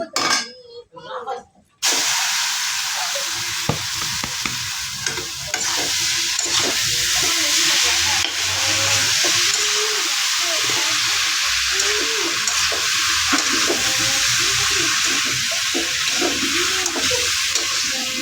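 Grated papaya bhaji with a little turmeric sizzles steadily in a pan while being stirred, a loud continuous fry with occasional clinks and a voice speaking over it.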